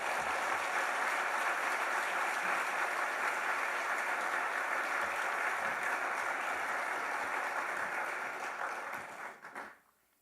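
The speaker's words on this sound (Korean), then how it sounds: "목사님 나오실 때 큰 환영의 박수 부탁드리겠습니다." A church congregation gives the pastor a big welcoming round of applause, steady dense clapping that fills the hall and then tapers off and stops near the end.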